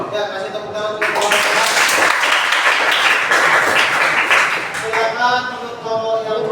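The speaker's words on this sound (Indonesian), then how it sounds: "kasih tepuk tangan untuk kelompok" A classroom claps for a student group, a few seconds of dense close-up applause that swells and then fades, with voices talking before and after.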